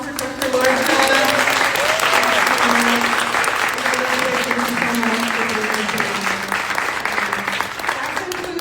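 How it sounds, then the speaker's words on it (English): A lecture audience gives a full round of applause, dense and steady clapping throughout, with a few voices talking faintly underneath. "Let's just give one more round of applause for Dr."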